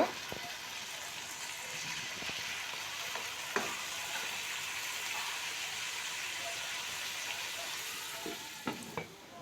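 Spiced masala frying with chicken in a pan: a steady, soft sizzle with occasional clicks and stirring taps, quiet and continuous.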